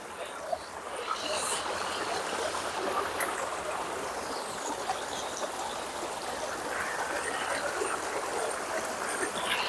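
A river flowing over rocks beside a rest area near Gua Tempurung in Malaysia, a continuous broad rushing babble, close and steady throughout.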